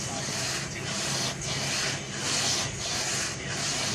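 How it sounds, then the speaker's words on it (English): 80 grit sandpaper rubbed over a wooden guitar fretboard in steady back-and-forth strokes, a close, rhythmic rasping hiss that swells and dips with each pass, roughly two strokes per second. "And I'm letting the sandpaper do the work."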